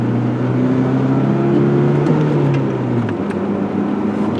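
Ford Ranger pickup with a 117-horsepower engine at full throttle, heard from the cab as a loud, steady droning engine note that climbs gradually in pitch over a few seconds, then drops briefly before holding again.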